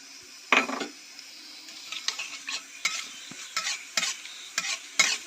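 Bay leaves and whole spices tempered in about three spoons of hot oil for Bengali potato dum, a sharp burst of sizzle followed by quieter frying with repeated clinks and scrapes of stirring in the pan, close and with no talk.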